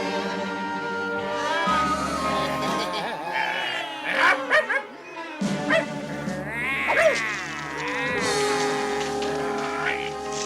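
A dog in a French Smurfs cartoon with Gargamel gives several sharp, close barks and yips over a musical score, with brief gaps between bursts.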